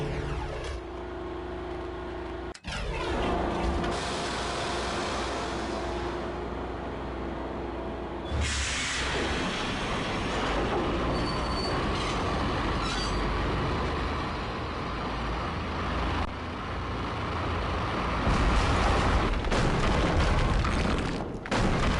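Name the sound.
train running, video game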